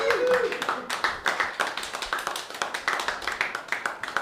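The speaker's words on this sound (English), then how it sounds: "But you should also clap for me now." A small comedy open-mic crowd claps for the host, sharp irregular hand claps that settle into a loose, fairly close rhythmic pattern, with a brief bit of voice at the start.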